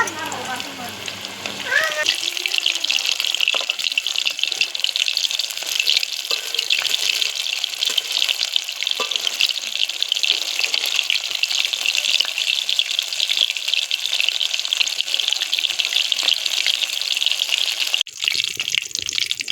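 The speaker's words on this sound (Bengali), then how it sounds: "এই যে চলে গেল লোটে মাছ ডিপ ফ্রাই করার জন্য।" Lote fish (Bombay duck) deep frying in hot oil, a steady dense sizzle and crackle that holds loud and continuous throughout.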